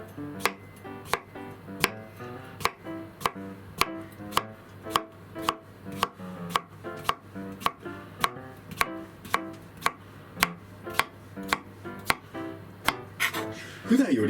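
A knife chops cucumber on a wooden board in crisp, evenly spaced strokes, close and steady, with faint soft crunches between cuts.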